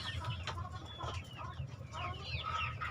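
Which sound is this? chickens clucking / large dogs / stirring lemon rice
chickens clucking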